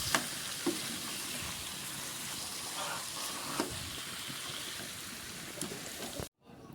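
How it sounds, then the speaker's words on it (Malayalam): Hyderabadi chicken curry sizzles and fries in a small pot over a low flame. A spoon stirs it with occasional scraping clacks over the continuous crackle before a brief cut to silence at the end. "ഞാൻ തീ കുറച്ചേ നല്ലതായിട്ടൊന്ന് ഇളക്കി കൊടുക്കാം"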